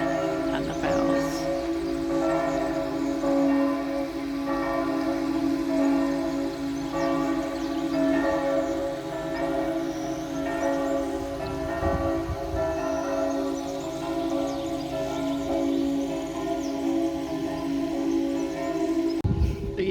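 Church bells ring in a steady repeating peal, loud and somewhat distant, over outdoor background ambience of birds and water at a château.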